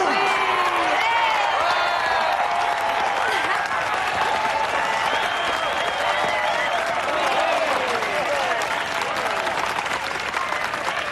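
A large festival audience applauds for Sally Danville and Plain Truth, dense steady clapping with scattered cheers and whoops filling the whole stretch, loud and continuous throughout.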